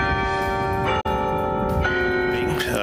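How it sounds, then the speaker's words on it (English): Church bells ring out loudly with long, overlapping tones that sustain and blend, a new strike joining partway through. "Bells ringing in honor of the attack victims"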